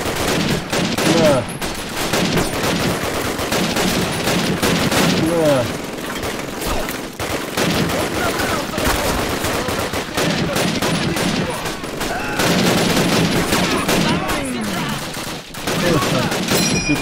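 Gunfire in a Call of Duty: United Offensive battle, dense continuous rifle and machine-gun fusillade with overlapping bursts and booms, loud and nearly unbroken, with shouted voices mixed in.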